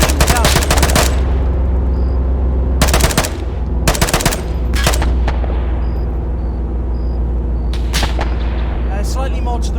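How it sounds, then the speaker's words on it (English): A tank-mounted machine gun rattles in sharp, loud bursts in a Manchurian offensive war game, several rapid volleys separated by brief pauses over a steady low engine rumble. "Fire the MG at them."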